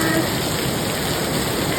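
Heavy rain pouring down outdoors in a park, a loud constant roar of drops drumming on surfaces with no pauses.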